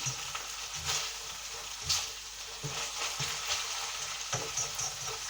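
Red Thai curry paste fries with onion in a pan, giving a steady close sizzle broken by intermittent stirring scrapes and sputters, with no voices.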